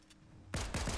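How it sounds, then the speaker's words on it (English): Gunfire in Fortnite: after a quiet half second, a loud burst of several rapid close shots fills the rest of the moment. "Someone else is shooting at me"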